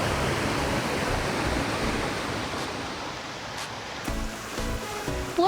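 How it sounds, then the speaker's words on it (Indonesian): Sakita waterfall in Morowali: a steady, broadband rush of falling water, loud and close with no letup, with a few faint knocks and clicks near the end. "Ini dia air terjun Sakita."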